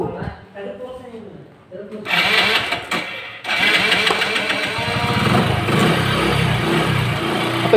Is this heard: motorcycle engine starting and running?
yes